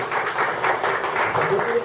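A crowd claps in praise of God during a church or worship gathering, steady rhythmic applause filling the room, with voices mixed in.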